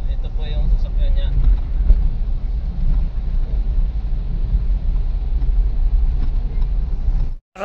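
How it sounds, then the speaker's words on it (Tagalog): A 2014 Mitsubishi Montero Sport with a blinking check-engine light on a road test along the Tagaytay–Santa Rosa road: a steady, loud engine and road drone, heard from inside the cabin with faint voices, cutting off abruptly near the end. "Road test na ng may-ari ng Montero ang sasakyan niya"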